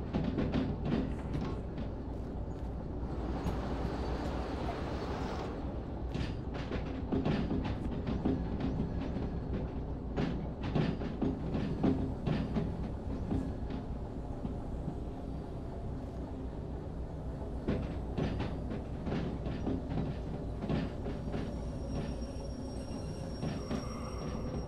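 A train running in the Derail Valley video game, a steady loud rumble of rolling wheels with rhythmic clacks and knocks over the rails, continuing throughout.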